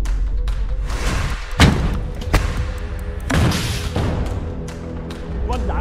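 A launcher fired at a tank, with muffled booms and thuds rising out of a constant loud rumble, a few sharp impacts spaced a second or two apart and distant crackle in between.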